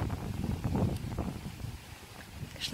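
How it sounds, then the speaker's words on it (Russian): Low, rumbling strong wind buffets the microphone outdoors in Jordan, a continuous gusty roar with a few faint knocks underneath. "Конечно, ветер сильный сегодня."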